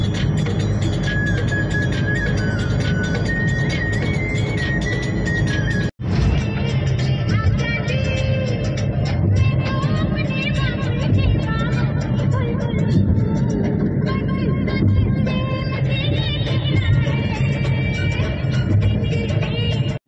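Car driving along Marine Drive road in Puri, Odisha, with a steady engine and road rumble from inside the moving vehicle throughout, a brief dropout near the start, and faint background sounds over the constant drone.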